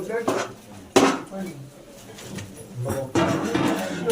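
Ceramic plates clatter as they are stacked at home, a few loud clanks with cutlery rattling between them, close by, while people talk in the background.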